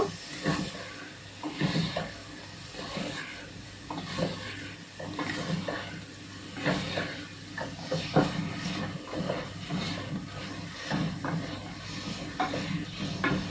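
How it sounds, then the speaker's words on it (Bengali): Whole cumin seeds fry in hot oil with a continuous soft sizzle, broken by intermittent stirring and scraping sounds at irregular intervals, close and moderately quiet. "আমি এক চামচ আস্ত জিরা দিয়ে দিলাম আমি ভালো করে কষিয়ে নেবো"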